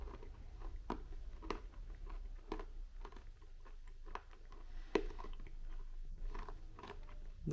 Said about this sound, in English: let's try out this pork meat with these crackers